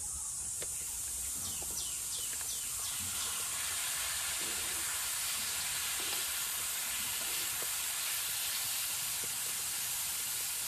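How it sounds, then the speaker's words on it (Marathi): White brinjal sizzles in hot oil tempering with turmeric, a soft, constant hiss, a few scattered stirring knocks and faint high chirps in the background. "मी आता या वांग्या फोडणीत घालते"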